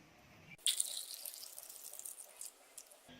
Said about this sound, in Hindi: अब इसमें चिल्ड वाटर डालेंगे